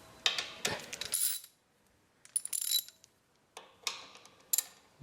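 Ratchet with a 5mm Allen socket loosening the oil plug on a Harbor Freight 29 gallon cast iron air compressor, four short bursts of rapid metallic clicking separated by pauses, close and fairly quiet.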